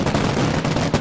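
A firecracker explodes in a cartoon scene as a loud, dense, crackling burst that fills the full second.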